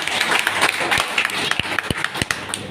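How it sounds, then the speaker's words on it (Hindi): An audience at a company promotional meeting breaks into loud, close, dense applause that holds briefly, with individual sharp claps standing out. "एक बार जोरदार ताली चाहिए"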